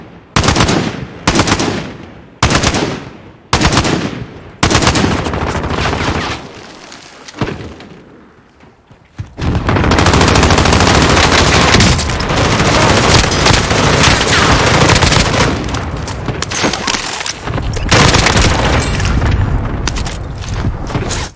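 Gunfire in the shooter game Warzone: a few separate loud bursts with gaps, then a long dense stretch of continuous rapid automatic fire and impacts, close and harsh.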